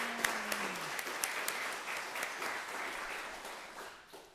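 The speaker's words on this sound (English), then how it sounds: "Please join me in another round of applause for all of our presenters." Audience applause for presenters at a Three Minute Thesis event, a fairly quiet, steady patter of many hands heard at a distance, with a few sharper claps standing out early on.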